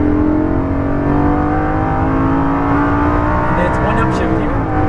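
An exotic sports car accelerates hard at full throttle on a race track, its engine note rising steadily and loudly from inside the cabin as a voice talks over it.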